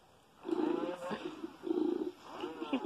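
A FurReal Tyler the Playful Tiger toy purrs: a soft, rhythmic mechanical purring in repeated pulses, close and fairly quiet, cycling on and off.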